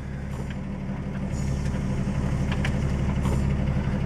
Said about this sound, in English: Car's idling just fine.